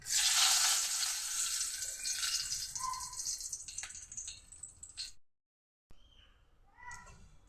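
Dried red chillies hit hot oil in a wok with a loud, hissing sizzle that spits and crackles for several seconds, cuts out briefly, then resumes more softly.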